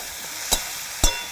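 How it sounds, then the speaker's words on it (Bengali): Salted, turmeric-coated prawns frying in hot oil in a pan, a steady soft sizzle with two brief louder bursts of spatter or stirring, close and alone with no talk. "তেলটা গরম হয়ে গেছে বন্ধুরা, আমি চিংড়িটা এবার ছেড়ে দিচ্ছি।"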